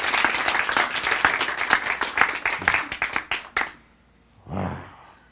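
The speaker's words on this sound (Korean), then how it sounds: "박수." Dense audience clapping at a Korean Bible-and-science lecture, loud and lively for about three and a half seconds before stopping abruptly, followed by a brief moment of a speaker's voice.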